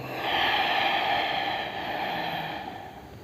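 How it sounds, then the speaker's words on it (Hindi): Ujjayi pranayama breathing through a lightly contracted throat, a close, sustained oceanic hiss that swells and then softens gradually, heard alone. "अगर आप हल्के से कॉन्ट्रैक्ट कर लेते हो तो उस तरीके से ओशियन साउंड जो है उस तरीके से आवाज़ आएगी।"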